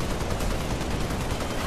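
Rapid assault rifle fire in the Halo Spartan Assault video game, a dense continuous burst of automatic shots, loud and close, lasting under two seconds with no talk.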